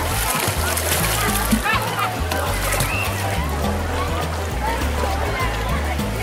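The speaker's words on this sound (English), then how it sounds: "She kicks water up at the electronic camera device." A young girl kicks water up in a swimming pool, giving repeated close splashes and sloshes, with talk and a voice over them.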